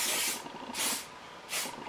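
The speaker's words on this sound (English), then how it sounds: "Needed this hairspray." Hairspray from an aerosol can hisses onto hair in three short close bursts, about half a second each, separated by brief pauses, with no talking.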